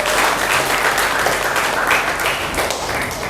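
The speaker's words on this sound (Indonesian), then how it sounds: "tepuk tangan untuk kita semua" A classroom of students claps together in a dense, lively burst of applause that holds steady for a few seconds and then begins to thin out.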